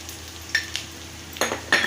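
Chili powder, a homemade onion-garlic masala blend, being stirred into a thick raw mango pickle, with a few short scraping and clinking strokes of a spoon against the bowl, close and fairly quiet, no talk.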